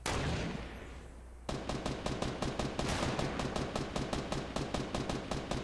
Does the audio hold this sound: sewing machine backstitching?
no